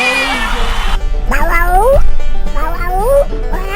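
A house cat lets out several loud, close meows and yowls in quick succession, each sliding up and down in pitch, with a person's voice briefly audible near the start.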